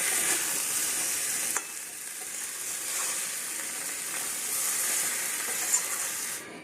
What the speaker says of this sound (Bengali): এখানে পটল ভাজা হয়ে গেছে, মশলা কষছে